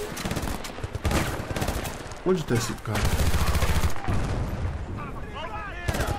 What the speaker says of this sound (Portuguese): Eu tô tomando tiro não sei nem da onde.